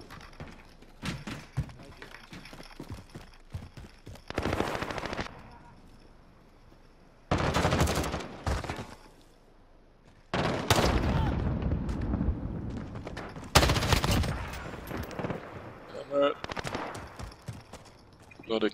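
Video game machine gun fire comes in repeated loud bursts, rapid rattling volleys separated by quieter pauses, with a voice talking over parts of it.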